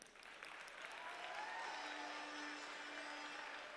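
An audience applauds the judges led by the lead judge advisor at an FMA District robotics event in Seneca, steady broadband clapping that swells in the first second and holds loud and even to the end, with no talk over it.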